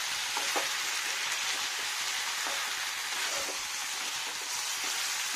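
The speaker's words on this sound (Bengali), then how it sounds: "এবার সুন্দর করে কষিয়ে নিই" Capsicum sautéing in a pan gives a steady, bright sizzle with faint stirring clicks, close and continuous, with no talking.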